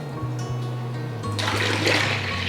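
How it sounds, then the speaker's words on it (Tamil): Water pours steadily into whisked curd for a large batch of buttermilk, a close, continuous gushing splash that swells louder toward the end, with no talking. "இப்போ தண்ணி சேர்த்துருவோம்."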